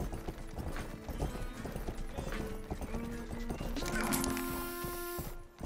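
Horse hooves clip-clop steadily in the video game Rustler, close and continuous, with a brief whinny and voices talking over them throughout.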